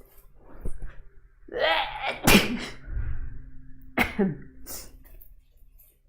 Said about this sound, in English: It's quite a skill to sneeze where you're being watched.